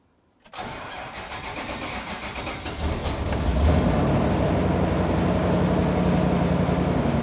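A 2004–2015 Nissan Titan with a fuel pump being replaced cranks for a few seconds before its engine catches, then settles into a steady, growing idle, heard close and alone.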